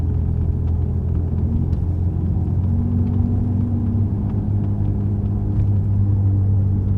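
Driving at around 30 to 40 mph, a 510 hp V12 Mercedes gives off a steady, deep low rumble from the rear, a continuous droning road and drivetrain noise heard from inside the car, with no voices.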